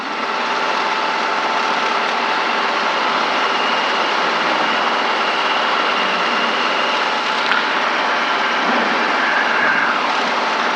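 A Robinson R22 helicopter hover taxiing on a ramp makes a loud, steady engine and rotor drone heard from inside the cabin, even and unbroken throughout, with no talking.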